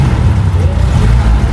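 An old 1997 Toyota Kijang engine runs at a steady, loud idle, a deep continuous rumble close by with no break across the whole stretch.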